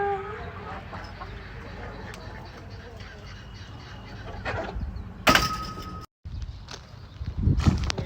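Chickens and ducks cluck and squawk at a farm. Low clucking sits under voices, with a louder squawking burst partway through and more fowl noise toward the end.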